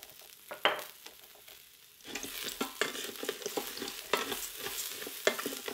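Rice and diced onion brown in an Instant Pot, starting with a few quiet scrapes before a dense, crackling sizzle rises and continues with steady stirring.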